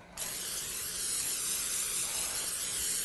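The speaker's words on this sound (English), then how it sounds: "and some nonstick spray." A short, steady hiss of nonstick cooking spray, starting abruptly and continuing evenly for a few seconds, close by.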